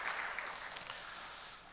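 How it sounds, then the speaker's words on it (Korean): A church congregation applauds during a Sunday service, producing a broad, even wash of clapping from many hands that holds steady and fades slightly, heard from a moderate distance. "우리 박수로 격려하겠습니다"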